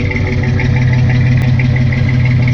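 A 1964 GMC truck engine idles steadily up close, a continuous low chugging rumble with light mechanical clatter and no break throughout.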